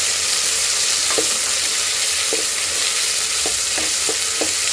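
Ginger-garlic paste, about six spoonfuls, sizzles steadily in a hot pan for gobi rice. A constant hiss runs throughout, broken by a few light taps as the paste is stirred.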